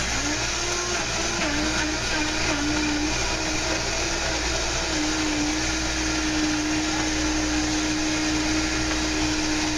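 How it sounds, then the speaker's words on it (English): A blender grinds tomato and onion for pico de gallo salsa, a steady loud whirring motor with a sustained pitch that wavers slightly as the chunks catch the blades, running continuously throughout. "I'm going to toss that in the blender."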